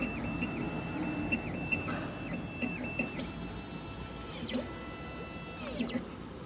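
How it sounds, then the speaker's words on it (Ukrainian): A key cutting machine decodes a Citroën C4 key, giving repeated short whirring motor runs with rising and falling electronic whines and faint clicks, quiet and close, with no talking. "Так, декодую ключ. Зараз станочок продивиться секрет."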